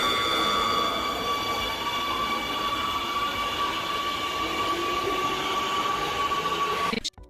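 A train in a video game rumbles and rolls steadily, a loud continuous rail noise with a whining tone on top, cutting off abruptly at the end.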